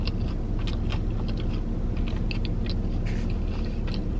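Close, crisp crunching and biting of a crunchy Shake Shack burger with cheese and vegetables, irregular bites and chews repeating steadily over a low background hum.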